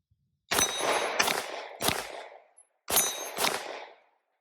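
Gunshots ring out firing Fenix frangible ammunition: five loud reports in two groups, three then two, each a sharp crack with a ringing decay. The shots are outdoors and unaccompanied by talk.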